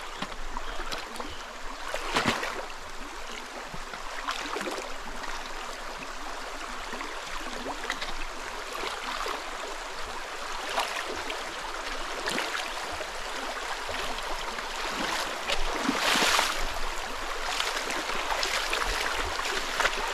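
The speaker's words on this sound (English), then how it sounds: "I get to ford this water source" Steady rushing of a mountain stream being waded on the Appalachian Trail where a bridge is out, a continuous broadband wash of flowing water with occasional splashes, close and fairly loud, no voices.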